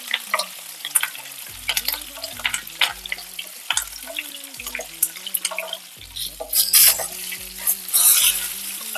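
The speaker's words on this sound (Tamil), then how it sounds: "இதை நல்லா எண்ணெயில் வதக்கிக்கலாம்." Curry leaves and torn tamarind sautéing in hot oil for a Hogenakkal-style fish curry, a steady close sizzle punctuated by repeated scraping stirs of a spoon against the pan, with no voices.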